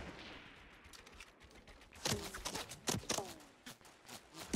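Sharp gunshots in a Fortnite Battle Royale duos match, a cluster of cracks with short echoing tails following a quieter stretch, moderately loud and close.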